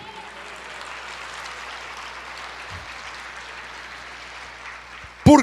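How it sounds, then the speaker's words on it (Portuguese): Diffuse congregation applause during a church sermon, a soft steady patter of many hands clapping at a distance, ending with a sudden loud close knock. "Aleluia, aplauda ao Senhor"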